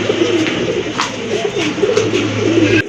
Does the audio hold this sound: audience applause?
no